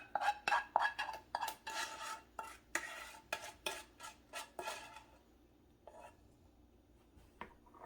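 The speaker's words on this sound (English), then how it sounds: "You don't wanna crush your Rice Krispies, so we fold, we fold." A spoon folds Rice Krispies into a hot peanut butter, sugar and corn syrup mixture in a pan, giving quiet rhythmic scraping and crackling strokes that fade to sparse taps.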